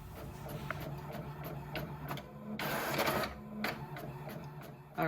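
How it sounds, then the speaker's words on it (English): A home inkjet printer prints the even pages of planner inserts. It gives off a quiet mechanical whir with soft clicks and a louder burst of rushing paper feed in the middle, with no talking. "I'm only going to print the even pages"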